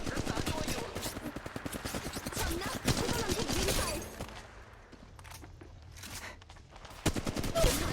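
Rapid automatic gunfire in Apex Legends Mobile, with dense rattling bursts for the first four seconds, then scattered single shots and another burst near the end, under an intermittent voice.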